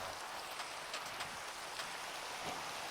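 Steady rain falls in the Minecraft FTB Omnia modpack, a continuous soft hiss of raindrops on surfaces at low, even volume with no talking.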